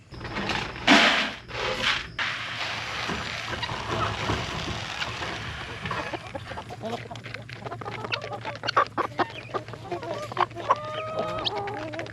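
Chickens cluck in a homestead chicken run, close by, with scattered short calls and bursts of activity over a quiet background.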